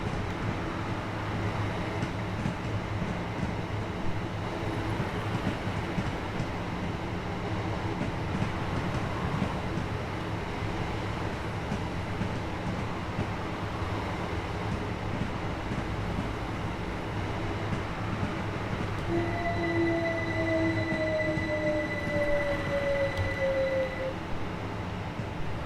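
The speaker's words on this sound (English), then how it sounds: "At least you can see how good I am at driving a train backwards." Steady low rumble of a train rolling backwards in Train Sim World on the East Coastway Line, with metallic wheel squeals rising briefly near the end; no voices.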